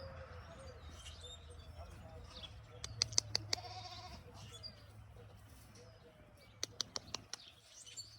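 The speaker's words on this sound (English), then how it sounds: "There's a lot of sheep." Sheep and young lambs bleating on a farm, heard as faint, scattered calls over a steady low background with sharp bird chirps breaking through in short bursts.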